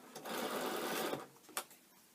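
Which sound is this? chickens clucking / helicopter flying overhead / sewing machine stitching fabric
sewing machine stitching fabric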